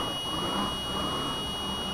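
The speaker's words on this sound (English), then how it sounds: "That is the sound that you would get from a DAF 95 if you had low air" A low air pressure warning buzzer sounds in a DAF 95 truck in Euro Truck Simulator 2, a continuous high steady tone droning unbroken over the engine's low rumble.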